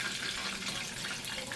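Hot rendered beef tallow poured into a container, a soft, steady liquid trickle with faint sizzling hiss, close and quiet.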